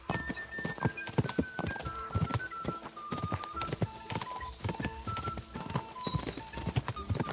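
A horse gallops in Kingdom Come: Deliverance 2, its rhythmic hoofbeats clip-clopping steadily and fairly close under a faint tonal backdrop.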